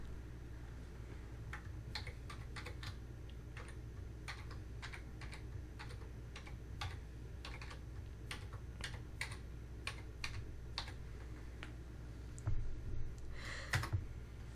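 Fingers type on a computer keyboard in bursts of light, quick key clicks over a low steady hum, with a few louder taps near the end.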